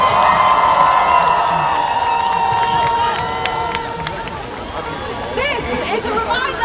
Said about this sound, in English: So give a big round of applause to Sidra from Iraq, please.